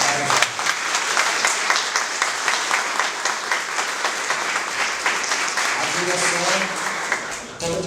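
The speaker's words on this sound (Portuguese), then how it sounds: "eu queria salve de palmas para o Joy" Audience applause at a bank workers' union talk: sustained dense clapping from a full room for most of the clip, fading as a speaker's voice comes through near the end.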